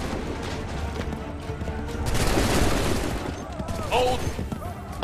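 Soldiers in Assassin's Creed 3 let off a musket volley in Montreal: a loud, dense burst of near-simultaneous shots swells mid-clip over a continuous din of battle, with shouting voices around it.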